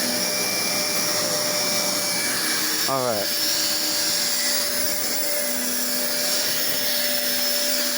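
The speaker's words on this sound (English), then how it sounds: "I really like this vacuum." A running upright vacuum cleaner with its brush roll spinning drones steadily and loudly, with a brief sliding whine near the middle and a short spoken word over the motor.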